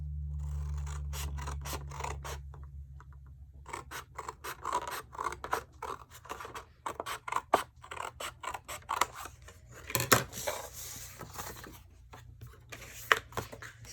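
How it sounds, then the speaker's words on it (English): Scissors snip through paper while a mini album cover is cut, making a steady series of short crisp cuts and rasps up close, with no talk. "Okay, so now we can cut this side."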